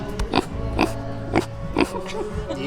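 A pig close by gives a rhythmic run of four or five grunting oinks and snorts, roughly half a second apart, with quiet background noise between them.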